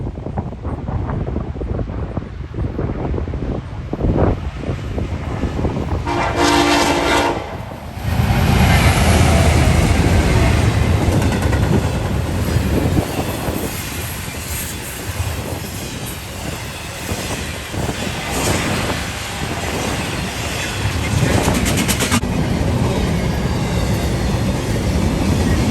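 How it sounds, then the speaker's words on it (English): An eastbound Chicago-to-Buffalo freight train led by a BNSF SD70ACE locomotive rushes past at speed, the horn blaring briefly early on, then a long, loud roar of wagons and rumbling wheels with occasional squeals, buffeted by wind noise on the microphone. "28M, 28B, a Chicago to Buffalo train, comes flying east with a BNSF"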